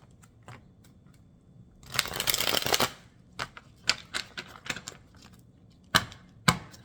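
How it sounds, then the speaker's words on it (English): A deck of stiff playing cards is riffle-shuffled once in a dense, crackling burst, framed by scattered sharp taps and clicks as the cards are handled and squared. The sound is close and fairly quiet, with no talking. "One shuffle."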